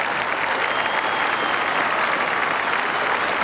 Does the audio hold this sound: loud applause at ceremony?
yes